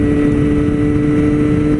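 A Kawasaki Z900 motorcycle running without its fairing gives a loud, steady, close engine drone with a strong low tonal hum. It sounds like hard riding under wind rush, and no voices are heard.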